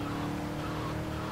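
A car races past in the video game GTA Vice City, a loud continuous engine roar with tire squeal and skidding that fills the whole moment without a break.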